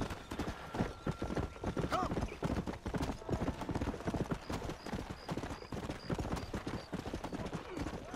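Hooves of a horse in Red Dead Redemption gallop in a steady, fast clip-clop rhythm throughout, loud and close, with a brief whinny-like tone early and faint game ambience underneath.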